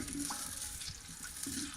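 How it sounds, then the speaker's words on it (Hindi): Soft, steady sizzling of saag tempering in hot ghee, a continuous crackling hiss at low level with no voices. "घी में इसका तड़का साग का लगाऊंगी।"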